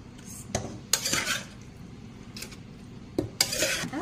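Clinking scrapes of a spoon stirring fried prawns and rice in a pot, spreading them out for prawn rice, with a few sharp metallic knocks and a soft background sizzle; no talking.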